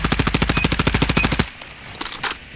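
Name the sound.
CBR4 gun firing in a video game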